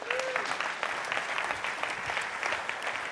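An audience claps for a speaker walking to the stage at a deep learning talk, a dense steady burst of applause lasting a few seconds with no talking.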